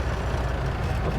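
A truck strains against its applied trailer brake during a lab test, giving a steady, low heavy-engine drone at close range that holds throughout without speech.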